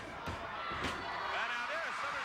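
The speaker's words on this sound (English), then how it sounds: "open hand shot." An open hand slap lands in a professional wrestling match, a sharp smack among crowd noise, heard briefly with a commentator talking over the arena.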